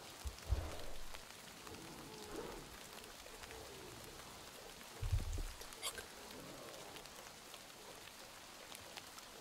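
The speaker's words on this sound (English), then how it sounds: "the rain is actually mixing my senses up" Steady rain falling in the video game Metro Exodus, a dense, even hiss throughout with a couple of brief low thumps, while a person talks faintly at times.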